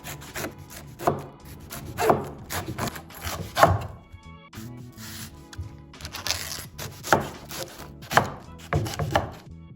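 A knife slicing leeks on a wooden cutting board, heard as repeated close crunching cuts with a few pauses, and no voices.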